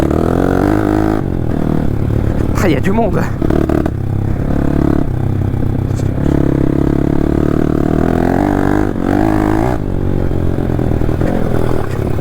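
An engine, apparently a motorcycle's, runs steadily and loudly throughout a ride, with clattering and scraping over the drone, and someone speaks briefly.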